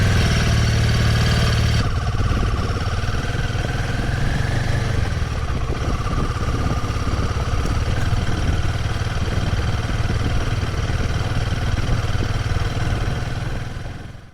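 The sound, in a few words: Royal Enfield Himalayan 450 motorcycle engine while riding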